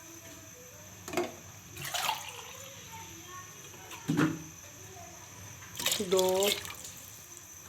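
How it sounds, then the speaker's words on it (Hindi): Water is poured from a mug into a pot of mixed dal cooking dhaba style, giving a few short splashing bursts under a woman's speech. "ये इसमें अब मैं पानी ऐड करूँगी।"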